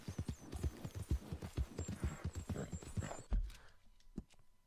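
A Tennessee Walker horse in Red Dead Redemption 2 plods along with a steady, close clip-clop of hooves, then falls quiet and gives a faint whinny near the end.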